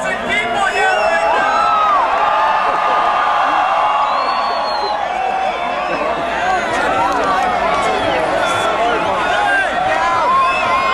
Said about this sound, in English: So far, this has been a record crowd.